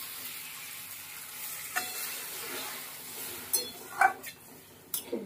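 Fish curry masala of tomato, potato and chilli paste frying in a pan, with a steady soft sizzle and a few clinks and taps from a spoon near the end; the water going in is not clearly distinct.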